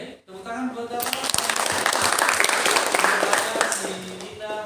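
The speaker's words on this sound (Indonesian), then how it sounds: "Oke, tepuk tangan buat apa?" A classroom of students bursting into applause after a brief pause, dense clapping that holds steady for several seconds, with some voices mixed in.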